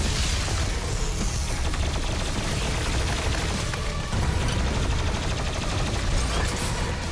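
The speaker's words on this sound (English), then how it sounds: "Let's ice grenade them." Dense, continuous combat in the Doom Eternal video game as an ice grenade is thrown at demons, with constant loud rattling gunfire, mechanical clatter and booms packed tightly throughout, no pauses.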